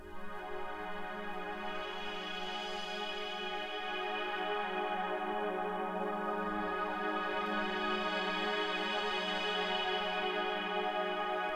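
A lush ambient techno synth pad patch built in Ableton Drift holds a steady, sustained chord with a slow swelling shimmer in the upper tones, playing alone and smooth for about twelve seconds.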